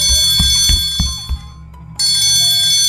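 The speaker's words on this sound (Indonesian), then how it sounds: "suara bel berbunyi lagi." School bell sound effect: a bright, loud electric bell rings steadily, cuts out for a moment, then resumes, with a few dull thumps near the start.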